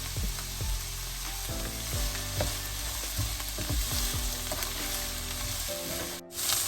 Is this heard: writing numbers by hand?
no